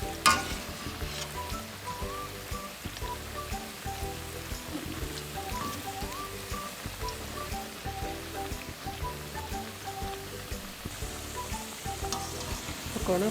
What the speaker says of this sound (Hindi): पकौड़ों को अच्छी तरह हिलाते जाएं ताकि ये फ्राई हो जाए